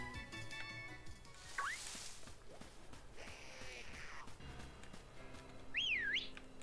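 Whistling in the video game Pokemon Shield: two short sliding whistled phrases, one early and one near the end, over soft game ambience with a whooshing swell between them.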